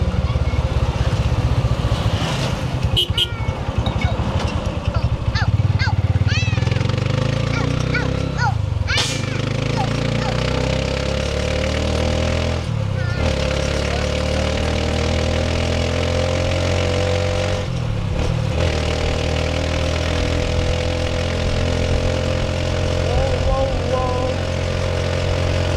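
A Honda Supremo 150cc motorcycle is ridden along a narrow, crowded road near Santa Teresa, its engine giving a steady, close, loud drone with rising and falling revs and wind rush, with some voices at times.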